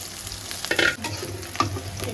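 Onions frying in a pan, with crackling sizzle and a few clattering scrapes of a spoon stirring them, close and alone with no talk.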